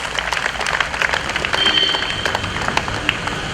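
Wedding guests applaud an aunt after a toast introduction, a steady dense clapping that fills the room at moderate volume throughout.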